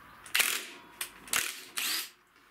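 Socket wrench working bolts loose on an Aprilia SR moped, giving several short mechanical ratcheting bursts with gaps between them, close and fairly quiet.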